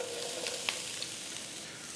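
Diced onion frying in olive oil in a skillet, giving a steady, soft sizzle close by with a few faint crackles and a light scrape, with no voices.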